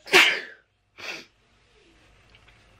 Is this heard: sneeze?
yes